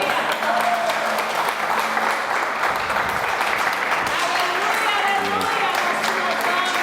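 A church congregation applauds continuously, a dense, steady wash of clapping with voices and cheering mixed in throughout.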